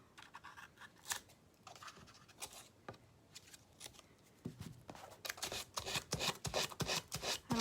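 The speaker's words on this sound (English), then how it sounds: "I'm gonna cut the edges." Scissors snipping the edges of a wedding frame, a quiet close series of crisp cuts and paper rustles, sparse at first and then quickening into rapid irregular snips.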